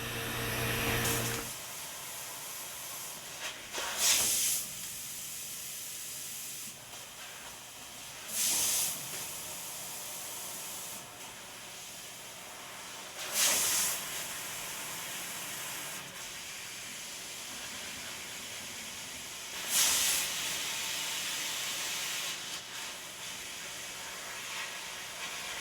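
A JMT fiber laser cuts copper through a 2.0 mm nozzle, giving a steady gas hiss throughout with four louder hissing bursts spaced a few seconds apart, near and clear, with no talking.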